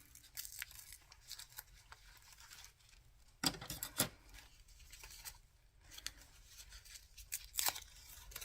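Scissors snip and scrape against fabric material, a few sharp cutting crunches with quieter rustling in between, heard close and faint, without talk.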